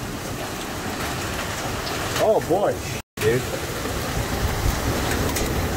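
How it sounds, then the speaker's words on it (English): Hail from a storm falls as a dense, steady hiss of small impacts that continues throughout. Someone speaks briefly over it. "Dude. That's hail."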